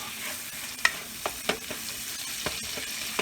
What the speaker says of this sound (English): I always start the onions off first to get the golden brown happening on them